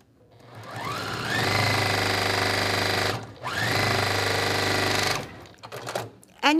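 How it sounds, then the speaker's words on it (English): A sewing machine stitches a quilt block in two steady runs of whirring stitches with a brief pause between them, followed by some handling clicks and fabric noise at the end. "So I'm gonna sew this."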